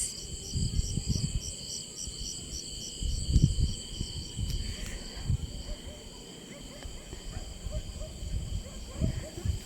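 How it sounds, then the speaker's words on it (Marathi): Crickets chirp at night in a steady, high, continuous drone throughout, heard from a village terrace, with low voices and outdoor rumble underneath. "हा रातकिड्यांचा आवाज"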